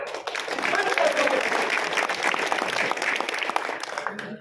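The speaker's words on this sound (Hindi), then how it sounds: "उतनी ही गर्मजोशी से जोरदार तालियां बजाकर" Loud, sustained applause from an audience at a block Congress party meeting, dense clapping rolling steadily for several seconds with a crowd murmur beneath.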